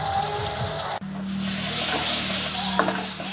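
Mashed bottle gourd bharta being stirred in a pan: a steady sizzle with soft scraping that swells into a louder, dense hiss partway through, under faint background music.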